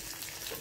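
Onions frying in a pan in a home kitchen, a steady close sizzle with soft crackle throughout a short moment, no voices.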